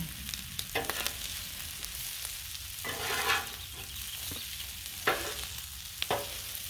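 Pork fried rice stirred on a Blackstone griddle, a steady sizzle broken by scraping spatula strokes and a few sharp metallic taps, close and alone without talk.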